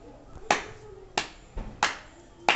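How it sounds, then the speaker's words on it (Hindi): Four separate, sharp hand claps ring out one at a time at roughly even intervals, close and fairly loud over a quiet indoor background. "ये तालियां क्यों?"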